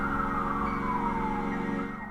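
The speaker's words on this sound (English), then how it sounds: "The distant sound of sirens eventually broke the silence." Wailing police sirens hold steady and loud across the whole clip, their rising and falling pitch layered with a constant drone, fading slightly at the end.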